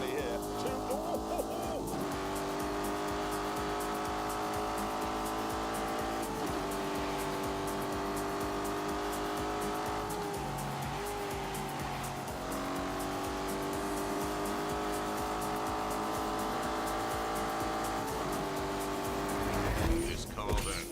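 A Lamborghini Urus driven in The Grand Tour Game racing game: a sustained engine roar rising in pitch and dropping at each gear shift, with tire squeal and skids near the end.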